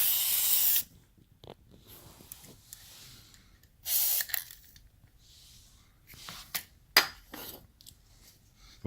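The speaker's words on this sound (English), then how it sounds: "Don't forget, get the WD-40" Short hissing bursts of WD-40 spray hit a sofa recliner mechanism, separated by quiet gaps and faint metallic clinks.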